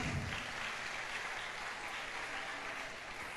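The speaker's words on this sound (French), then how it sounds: "Tonnerre d'applaudissements à nouveau, s'il vous plaît." Sustained audience applause at a school end-of-cycle celebration, a steady, even roar of many hands clapping in a hall, with a low hum underneath.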